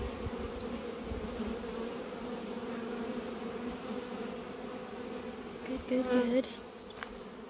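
Steady, dense buzzing of a honey bee swarm around a hive, with most of the bees already inside, continuous and fairly close, swelling briefly near the end as a few bees fly past.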